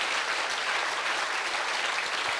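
A church congregation at a Sunday worship service claps together, giving loud, continuous applause that fills the room evenly and steadily through the whole moment with no voices on top.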